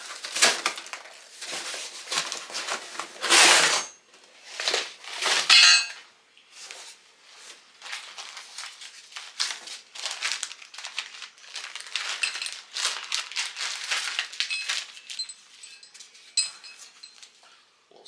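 A product package for a Cruzr Mini Seeker or Tethrd Grit Workhorse XL being torn and opened, with bursts of rustling, crinkling and crackling plastic and cardboard, some loud rips and quieter handling gaps, close by.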